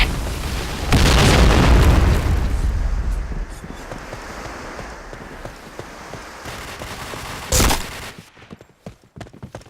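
Grenade explosion in the shooter game Point Blank: a deep heavy boom with a rumbling tail, a second sharp blast, then scattered gunshot pops trailing off.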